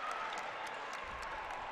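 Crowd noise at a boys' high school basketball game between Harrisburg and Susquehanna, a steady broadband roar of applause and cheering from a packed gym, continuous and fairly loud throughout.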